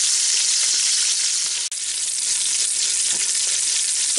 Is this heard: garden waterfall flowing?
no